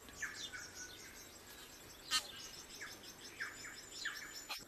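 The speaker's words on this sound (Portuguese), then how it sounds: "O canto do pássaro-sino ainda é comum na Nova Zelândia" A New Zealand bellbird sings in open country, its clear chiming notes repeating at moderate distance against a soft hiss of insects and background ambience.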